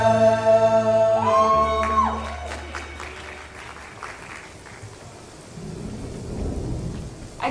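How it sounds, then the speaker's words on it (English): Heavy rain and a thunderstorm follow a few seconds of sustained musical tones, with rolling thunder and a dense patter of rain on surfaces that eases off and then swells again. "It's raining cats and dogs out here."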